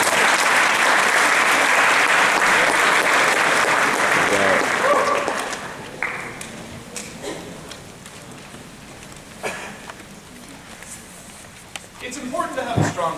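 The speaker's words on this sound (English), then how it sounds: "So let's go ahead and give a bit of a round of applause to James Baugh." A room full of listeners at a speech night claps for a speaker being introduced, loud dense applause for about five seconds that fades out, followed by quieter room noise with some talk and shuffling.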